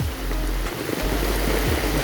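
Heavy typhoon rain pouring down outdoors, a dense, loud, continuous roar of water with low rumbling gusts underneath.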